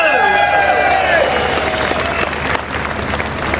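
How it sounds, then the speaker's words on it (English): A crowd at a Rejoin march stage show in London claps and cheers loudly, the applause building into a dense, sustained roar with some shouts mixed in. "let's give him a big cheer"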